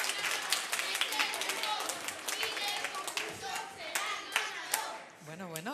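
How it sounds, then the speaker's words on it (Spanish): Audience applause for a school quiz team at a televised school competition, a steady patter of clapping hands lasting several seconds with some crowd noise mixed in, fading toward the end as a voice begins. "Un aplauso para ellos."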